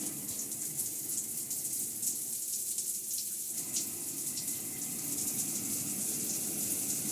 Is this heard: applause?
no